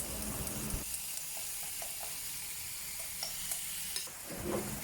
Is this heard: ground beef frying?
yes